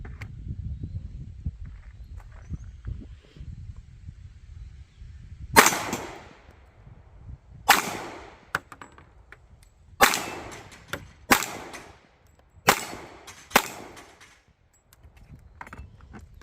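A Ruger American .45 ACP compact pistol fired at a range, with seven sharp, loud shots in irregular succession, separated by pauses filled with faint handling noise.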